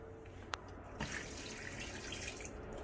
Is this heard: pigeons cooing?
no